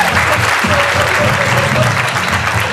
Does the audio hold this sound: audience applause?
yes